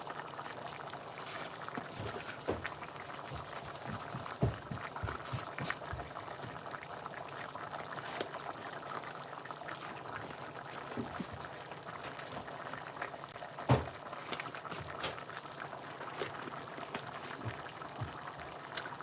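A pot of water at a steady boil on a stove, continuous bubbling and churning with scattered small pops, close and even throughout with no talk.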